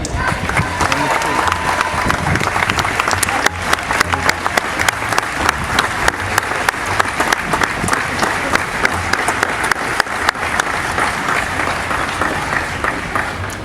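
A large audience applauds steadily at an outdoor dedication of a Martin Luther King Jr. statue on the Georgia Capitol grounds, welcoming Governor Nathan Deal; dense, sustained clapping fills the whole stretch with a few scattered cheers.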